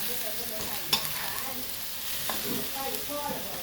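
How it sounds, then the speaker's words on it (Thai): Pork belly stir-fried with lemongrass and kaffir lime leaves, a steady sizzle under repeated scraping and stirring strokes, one sharper clack near the start, close and moderately quiet. "ก็ใส่ใบมะกรูดนะคะ ผัดไปเรื่อยๆค่ะ"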